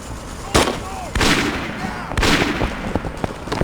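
Gunfire in the PC game The Regiment, a few loud sharp shots and booming bursts with ringing tails, followed by lighter distant pops.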